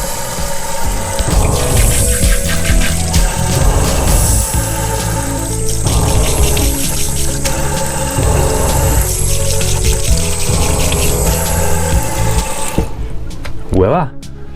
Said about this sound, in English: now we get to run the water until we don't smell any chlorine